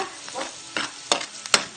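Garlic frying in a pan as the base for pork sisig, a soft sizzle broken by a few scraping stirs of a utensil, close and brief, no talk.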